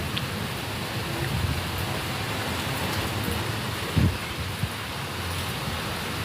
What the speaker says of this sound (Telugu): వర్షం అయితే వెలిసి మళ్ళీ వస్తుందండి. వర్షం వచ్చుకుంటూ పోతుంది.